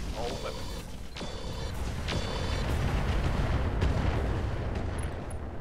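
ATM-12 missile launcher firing swarm incendiary rockets in the mech game Roguetech, a sequence of mechanical clunks and sharp launch bursts followed by a swelling roaring rush of missiles; a voice talks over it.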